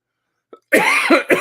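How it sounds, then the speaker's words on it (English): A short, quiet throat sound followed by a burst of two or three harsh coughs, close up and loud, with no talking. "I still got my little cough going."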